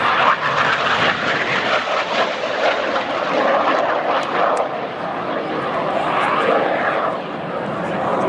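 Red Arrows display jets flying a formation pull-up at the 2014 Farnborough Airshow, a loud, continuous jet roar over a full crowd, steady throughout and slightly easing near the end.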